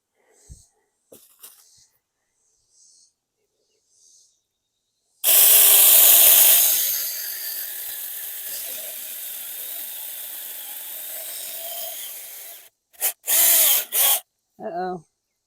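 A Saker Mini electric chainsaw starts with a loud whine and cuts through wood, the motor dropping into a steady laboring buzz for about seven seconds. Short bursts of revving follow after it stops, with a few clicks and handling knocks before.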